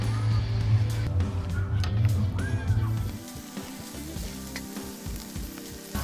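Continuous crackling sizzle of lamb rack on a wood-fired grill, with a faint voice in the background.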